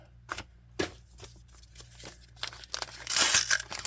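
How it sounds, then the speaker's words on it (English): Paper envelopes holding Magic the Gathering cards being torn and opened up close, with crinkling, tearing and shuffling sounds in short bursts that build into a louder rustle near the end; no one speaks. "Coming down, I got 4 more envelopes to open."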